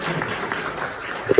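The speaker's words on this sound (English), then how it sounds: "But to give it a round of applause to all of you in the community as well for bringing these people together." Applause from a community gathering at a venture capital event, a brief, fairly loud spell of clapping with a couple of sharper sounds at the very end.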